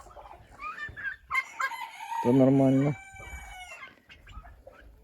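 A hen clucks and a rooster-like call rings out loudly mid-clip on a small backyard homestead, with brief speech and other chicken and bird sounds around it.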